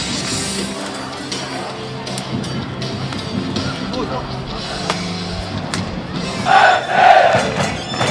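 A stadium crowd applauds both teams after a 1-1 K League match between FC Anyang and Chungbuk Cheongju, a broad roar of clapping and cheering that swells near the end, heard under an announcer's voice.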